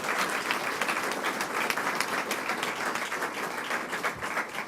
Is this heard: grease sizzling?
no